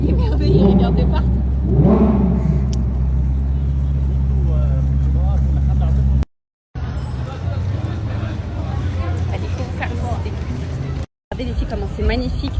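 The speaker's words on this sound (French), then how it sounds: "Oh, c'est les voitures." Cars passing on a street in Dubai, a steady low engine hum with rising revs, mixed with nearby chatter and voices, cut by two short dropouts.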